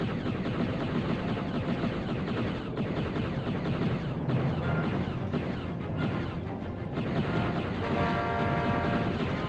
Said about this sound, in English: I should probably jump on that train.